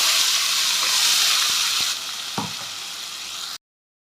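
Ground onion and garlic paste sizzles and hisses in hot oil in a clay pot, a loud continuous fry that softens slightly midway, with a few stirring knocks.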